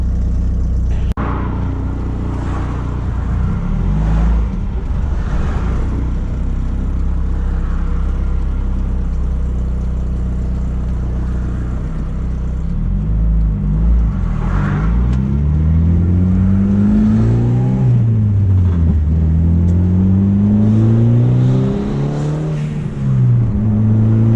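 A Honda Integra fitted with Hasport engine mounts idles, then drives off and accelerates, the engine note climbing and falling through several revving gear pulls, loud and close.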